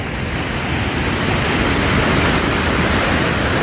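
Flowing water outdoors, a loud, steady, dense rush of broadband noise with no breaks or talk, like a close stream or cascade.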